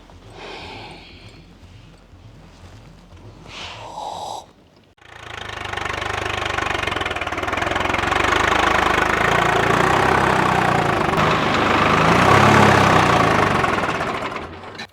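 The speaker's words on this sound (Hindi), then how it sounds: "ट्रैक्टर बार बार बंद हो रहे भाई।" A tractor engine chugs loudly and steadily for several seconds after a brief earlier run and a sudden cutout, its knocking mid-range drone close and continuous with no voices.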